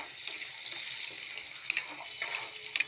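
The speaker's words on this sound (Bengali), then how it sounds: "ফোড়ন দিয়ে আলুগুলোকে ভেজে নেব" Potatoes fry in hot oil with whole spice tempering, a soft continuous sizzle close by with a few scraping stirs and clatters of the spoon against the pan.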